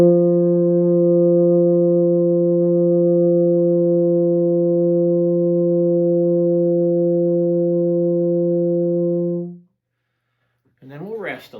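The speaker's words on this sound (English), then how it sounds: "The first one is just warming up on F long tones" Baritone horn holding a single sustained F long tone, steady and loud for about nine seconds before cutting off into silence, followed by a brief spoken voice.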